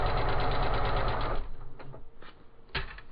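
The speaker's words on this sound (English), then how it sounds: "I'm just going to continue sewing on in this way, keeping a ½ inch in between my seams" A sewing machine whirs steadily and close while stitching the seams of a chenille rag-style baby quilt, then stops, leaving a few faint clicks and handling sounds.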